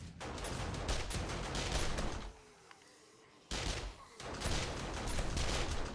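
Rapid bursts of gunfire in the video game 7 Days To Die at a horde base, loud sustained volleys with a brief quiet gap in the middle.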